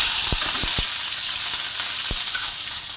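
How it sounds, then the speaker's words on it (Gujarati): Cut green chillies dropped into hot oil with cumin and asafoetida, a loud close hiss and sizzle with a few soft knocks from stirring or the pan, no talking. "પછી આપણે જે કટ કરીને રાખેલા છે મરચાં એ એડ કરી દઈશું"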